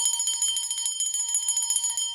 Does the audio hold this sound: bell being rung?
yes